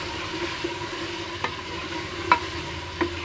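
Stirring and sizzling as tomatoes go into golden fried onions for a desi chicken shorba, a steady frying hiss with a few sharp spoon scrapes near the middle and end.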